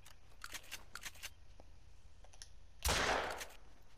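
Rifle gunshots ring out while hunting in New Zealand in theHunter: Call of the Wild, one loud close blast near the end after a few quieter clicks and taps.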